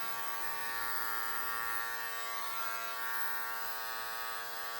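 An Andis electric hair clipper, held upside down, hums steadily while cutting hair, a close, continuous motor buzz with no talk.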